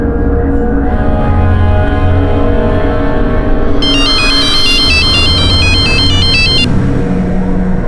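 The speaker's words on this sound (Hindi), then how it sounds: "जरूरी फोन आना था" A phone ringtone plays a repeating electronic melody for about three seconds in the middle, over a steady background drone in a crime drama scene.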